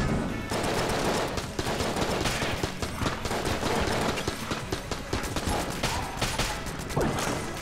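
Guns fire in rapid bursts in the dungeon-crawler video game Enter the Gungeon, giving a dense clatter of repeated shots with mechanical clicks over a steady game soundscape.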